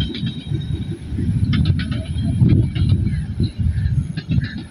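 A train rolls slowly past, giving a loud low rumble of wagons with faint metallic clicks and hiss rising and falling over a few seconds.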